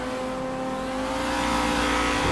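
A car engine in the racing game GTA Online approaches from behind, its steady revving drone growing gradually louder over a couple of seconds, close and continuous.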